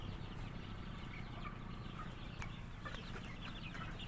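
Farm chickens clucking and murmuring steadily at close range while being fed, with scattered sharper clucks and a busy low background of birds and movement, with no talking.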